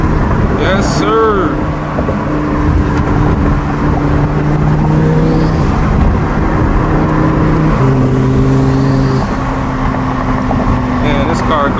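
A 1000HP twin-turbo Lamborghini roars and accelerates through city streets, its loud engine drone holding steady then stepping up through gear changes, recorded from inside with someone talking over it.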